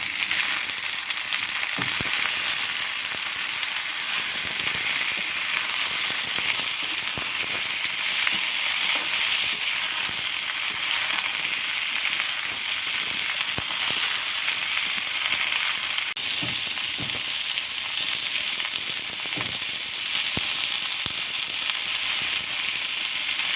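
Eggplant frying in a pan with onions already browned, giving a loud, continuous sizzle and hiss with occasional stirring scrapes throughout.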